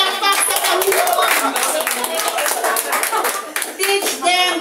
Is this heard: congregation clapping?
yes